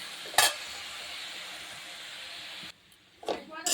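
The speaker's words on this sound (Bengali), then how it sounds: "চলো শাক ভাজাটা গ্যাসে বসিয়ে দিয়েছি।" Leafy greens (saag) fry in a pan on a gas stove with a steady, close hiss of sizzling that suddenly cuts off. Short bursts of clatter from stirring or handling come before and after the sizzle.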